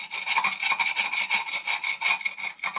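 Scraper dragged in short, repeated strokes across an oily, grimy transmission mount bracket from a 1997 Jeep Wrangler TJ, a close, gritty rasp that comes in uneven bursts with no talking.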